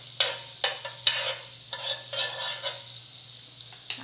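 Butter melts in a hot pan with bursts of crackling sizzle that rise and fade several times over a low steady hum, close and moderate in level.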